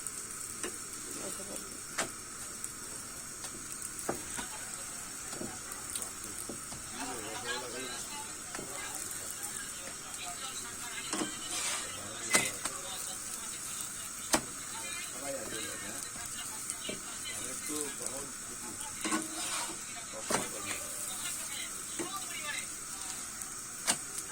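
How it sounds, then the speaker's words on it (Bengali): Potato paratha frying in a pan at a street food stall, a steady soft sizzle with scattered scraping and stirring clicks, continuing under background voices. "এখন আমি যদি আলুর পরোটা ভাজি"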